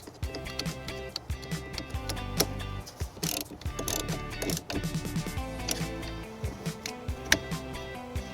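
A 12mm socket ratchet tightens a nut during trailer wiring work on a 2007-2017 Toyota Camry, giving rapid, close metallic clicking over a busy background.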